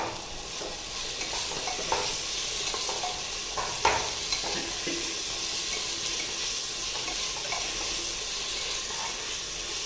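Shallots frying and browning in a pan with salt, a steady close sizzle throughout with occasional stirring scrapes.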